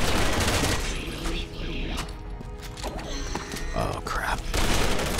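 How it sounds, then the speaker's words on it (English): Machine gun fire in Resident Evil 6, a continuous rattle of shots with mechanical clatter blended into a busy game soundscape, fairly steady throughout, with a man briefly exclaiming over it. "Let's switch to the machine gun for a bit."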